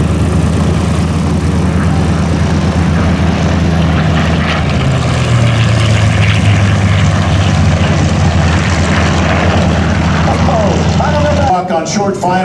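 A WWII-era propeller airplane at an airshow passes from left to right, its engine drone swelling and fading at a distance, while an announcer talks over a public address.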